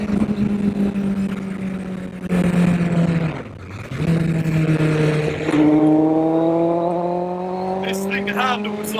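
A Honda CBR1000RR motorcycle-engined Mk car revving toward 14,000 rpm, a loud high-pitched engine wail that climbs, dips sharply around a gear change, then climbs again close by, with a voice talking over it.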